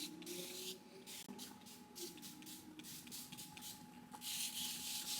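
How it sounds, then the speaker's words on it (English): A spray bottle spritzes water onto curly hair, fine misting bursts repeating in short pulses close to the microphone, soft and hissy with no talking. "let you enjoy the spritzing sound"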